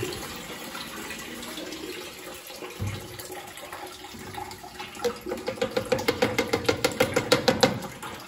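Warm water pours from a tap in a barn, a steady broadband rush that swells toward the end into a rhythmic series of splashing pulses, close and fairly loud with no talk.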